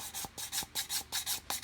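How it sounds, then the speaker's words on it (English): Sandpaper rubbing over filler on a plastic scale model kit, close rhythmic rasping strokes repeating about every quarter second, crisp and alone. "sand this one out"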